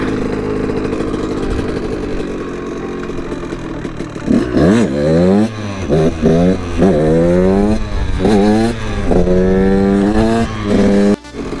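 KTM motorcycle engine while riding, steady and loud at first, then revving up and down in repeated surges as the rider pops wheelies, close and dominant throughout with no talk.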